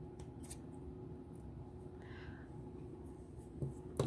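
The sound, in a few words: cutting a bracelet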